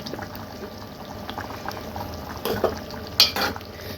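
A pot of tamarind stew with lentil vadiyalu simmers with a low bubbling hiss, a few brief clinks and liquid splashes breaking in near the end, no talking.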